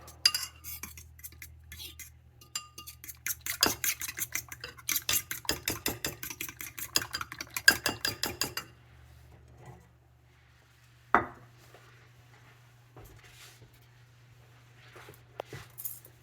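Chopped shallots and fresh tarragon are stirred together in a bowl, with a fast, busy run of close utensil clinks and scraping, followed by quieter, scattered taps.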